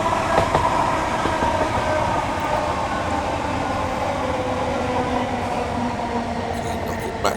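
A Southeastern passenger train in Train Sim World 5, heard from an outside view between Faversham and Rochester: a steady, loud rumble of wheels on rails with a droning motor whine that continues throughout.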